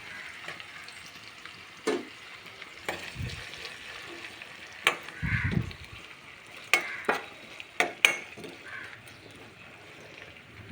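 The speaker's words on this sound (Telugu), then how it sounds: "ఆనియన్స్ వేగేంత వరకు వెయిట్ చేద్దాం." Onions with curry leaves and salt fry in a pan. A soft sizzle runs throughout, and several sharp clatters and stirring knocks break in at irregular intervals.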